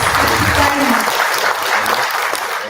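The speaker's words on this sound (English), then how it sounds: "please welcome him as he guides us on the wide topic of intellectualism, global scholarship, and student success. With a round of applause." Applause for a lecturer being welcomed at a university convocation pre-lecture in Kano, Nigeria, a dense steady clapping from a large audience that holds at full level throughout and eases only slightly toward the end.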